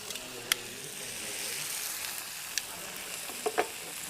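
Pieces of lamb searing in a hot pan give a steady, fairly faint broad sizzle, broken by a few sharp ticks and clinks of tongs.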